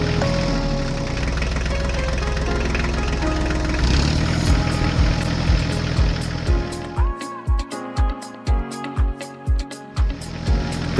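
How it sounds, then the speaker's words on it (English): Two tractors' engines idle as they slowly roll out of a big farm garage, a steady low rumble that later breaks into rhythmic, pulsing chugs, fairly close and loud with no voices. "the sound of engines fills the air as both machines slowly roll out of the"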